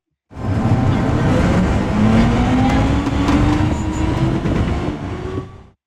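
A train in the Minecraft MTR mod runs with a continuous loud rolling rumble and a rising electric motor whine, fading in and out smoothly with no talk.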